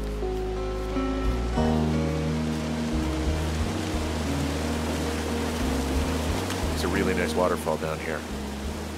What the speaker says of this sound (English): Waterfall down here.